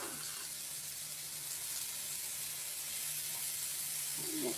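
Broccoli dropped into a hot frying pan gives a steady, close sizzle and steam hiss that runs evenly throughout, with no talk.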